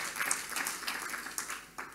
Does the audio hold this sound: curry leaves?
no